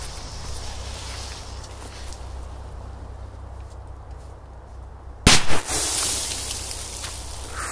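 A Big Jumbo firecracker goes off in a single loud, sharp bang after several seconds of quiet outdoor ambience, followed by a brief rumbling tail and crackle.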